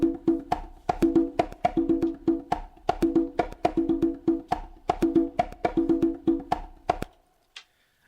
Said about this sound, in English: We've got some conga pattern,